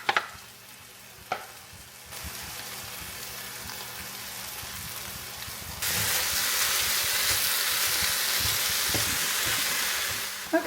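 Seasoned food cooks in a pan with garlic, salt and pepper, giving a steady hissing sizzle that swells louder partway through, with a few clinks and stirring knocks near the pan.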